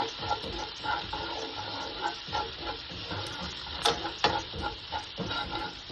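Beans sautéing in a pan with onion and garlic give a steady sizzle and hiss, broken by clattering scrapes and knocks as a utensil stirs black pepper through them, fairly close and continuous.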